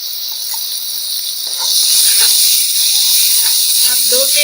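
Turmeric, red chili powder and salt frying in a pan for Lahori-style chickpea curry give a steady, loud sizzling hiss that grows a little louder partway through, with a few faint clinks and no speech.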